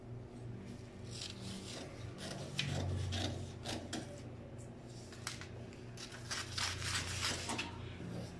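Scissors cutting through fabric pieces for a nightgown, a steady rasping, rubbing snip-and-slide texture that continues close up with no talking, over a low background hum.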